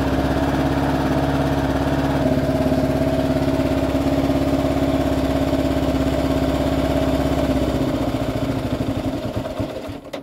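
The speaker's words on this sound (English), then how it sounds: "stalling out when I give it throttle. Kind of weird, but it idles okay." A Kawasaki KLR 650 motorcycle with a fault that stalls under throttle idles with a steady low, even thumping, loud and close, slowing and fading near the end.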